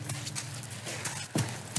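Hooves of a Tennessee walking horse thud and clop in a steady gait as it circles an arena on a ranch, soft and fairly close, with a faint airy background.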